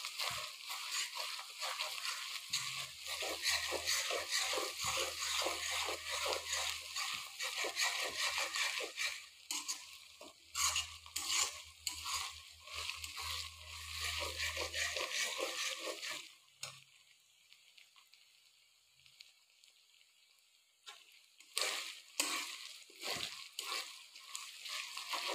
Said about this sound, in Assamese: দুই মিনিটমান লৰাই লওক, নহ'লে কেঁচা নহৰু গোন্ধাই থাকে।